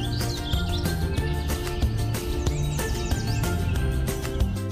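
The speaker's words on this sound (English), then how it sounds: "Is that the sound of bird chirping?" Bright, brief bird chirps rise over steady background music, with a few short tweets spread through the clip at moderate loudness.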